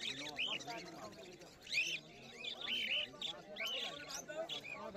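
Cage birds, including cockatiels, chirp and tweet in short, bright repeated calls at a bird market, close and fairly faint, layered over busy background chatter and someone speaking.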